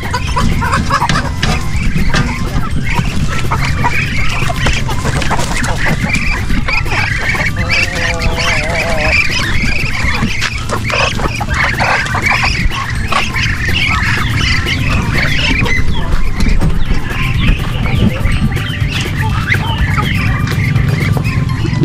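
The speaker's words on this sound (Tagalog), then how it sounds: "Sumulubong na po ang mga alaga nating mga manok at pato." Chickens and ducks on a poultry farm squawk and honk in a dense, continuous chorus, loud and close throughout with no break.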